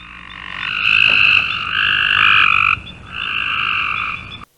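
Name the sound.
Cope's gray tree frog calling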